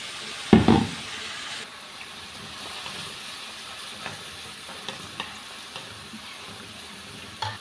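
Homemade black noodles stir-frying in a little oil: a loud clatter of utensil against pan up front, then soft sizzling with occasional light scrapes and taps of stirring, close by and without talk.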